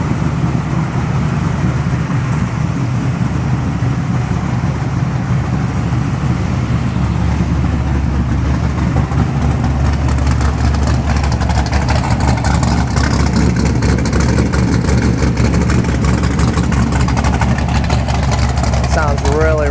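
Classic split-window hot rod with a fully forged engine, proprietary heads and a custom ground billet cam, running steadily with a deep, continuous rumble throughout, loud and close, with people talking over it.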